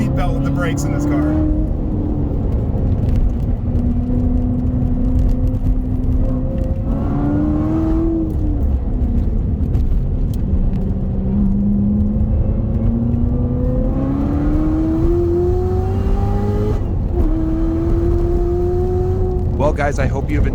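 A 2019 Chevrolet Corvette ZR1 engine drones steadily while driving, its pitch rising and falling through gear changes, with a brief rev surge near the end, heard under continuous talking inside the car.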